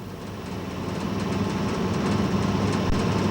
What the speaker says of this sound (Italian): Il treno ora si ferma alla fermata di Neuhaus an der Gail.